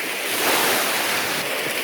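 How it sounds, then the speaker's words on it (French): Waves washing onto an empty beach on Havelock Island, India, a steady close surf hiss with soft wind and no voices. "Donc je suis seul sur la plage."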